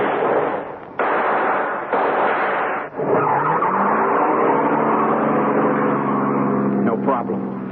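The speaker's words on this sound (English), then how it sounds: "I shoved that getaway car into gear and took off" A getaway car staged as a radio drama effect roars off, with loud engine noise and a rising rev into a sustained drone, after a few abrupt thumps and a sharp bang near the start.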